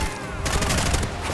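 Gunfire in the video game Bright Memory Infinite, a loud dense burst of rapid shots that packs the whole moment with no gaps, under a faint game soundtrack.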